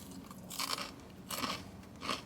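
Three crisp crunching bites into crunchy KFC fried chicken, original recipe, each a loud close burst of crackling with short pauses of soft chewing in between, no talking.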